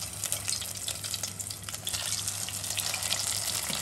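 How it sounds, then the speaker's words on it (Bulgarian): Chicken pieces fry in a pot with about a finger's depth of hot oil for a Bulgarian chicken and onion stew, giving a steady, close crackling sizzle with bursts of spitting throughout. "Ще ги пържим на порции по 3."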